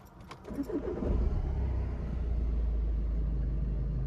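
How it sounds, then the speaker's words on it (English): An Audi A3 S-tronic diesel engine starts up close by. Keys jangle briefly, the starter cranks, and the engine catches into a steady, low diesel rumble that keeps idling. "Listen to the engine, the way it starts up."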